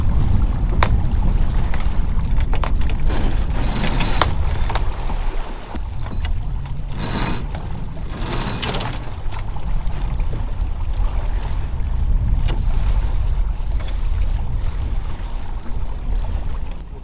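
A sailboat moves across the water off San Diego near Coronado Island, with steady rushing water and wind buffeting the microphone throughout, plus occasional louder gusts and splashes, close and loud without talk.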